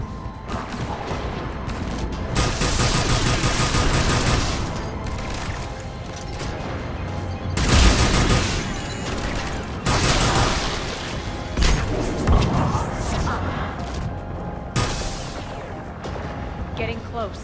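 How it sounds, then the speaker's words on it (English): Heavy booming cannon fire with crashing impacts in the video game Mass Effect 3 Legendary Edition, repeated bursts over a dense rumbling battle din, loud and close throughout. "Those cannons have to be stopped."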